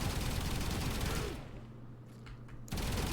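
Dual Decurion pistols firing in Warframe, a rapid dense burst of automatic gunfire that cuts out midway, leaving a low hum, then resumes abruptly at the end.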